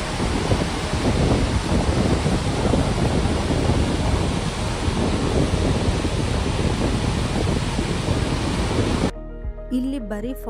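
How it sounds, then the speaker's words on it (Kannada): Water plunges at the Shivanasamudra waterfall as a loud, dense, unbroken roar close at hand, with some wind buffeting on the microphone, before it cuts abruptly to a different quieter sound at the end. "ನೀರು ಧುಮುಕ್ತಿರೋ ಸೌಂಡ್ ನೋಡಿ ಎಷ್ಟು ಚೆನ್ನಾಗಿ ಕೇಳಿಸ್ತಿದೆ."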